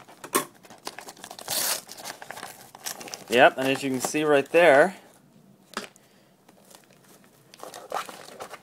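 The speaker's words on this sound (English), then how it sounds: "I'm just getting some scissors here to rip this open." Crinkling and tearing of packaging as scissors cut through it, loud rustling bursts in the middle, with a person talking before and after.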